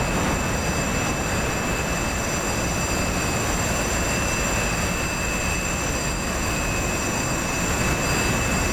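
Loud, steady roar of a MiG-31 jet engine in a combat flight video game, a constant broadband rush with high whine tones running unbroken and close throughout, no voices.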